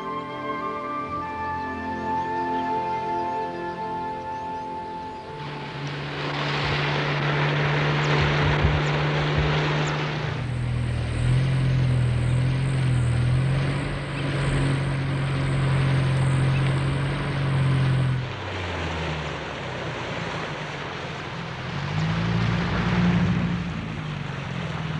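A floatplane or small aircraft sets down on calm water of the Nile downstream from Lake Victoria, a steady engine and propeller drone with rushing water and wind, loud and continuous, shifting in pitch as it touches down and taxis.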